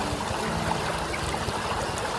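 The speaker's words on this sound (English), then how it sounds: "This is Silver Creek. Pretty easy water access here." Silver Creek flows along a hiking trail in a soft, continuous wash of running water, steady and fairly close, with no voices over it.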